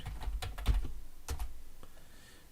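Keys clack on a computer keyboard in a short, uneven burst of typing as an answer is entered, close and quiet, then trailing off into near silence.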